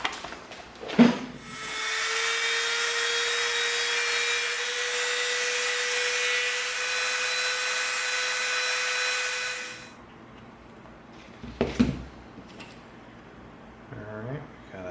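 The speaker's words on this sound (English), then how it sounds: "now let's use our Dremel" A Dremel rotary tool works EVA foam with a steady high-pitched whine lasting about eight seconds at close range, framed by brief knocks and handling noises before and after.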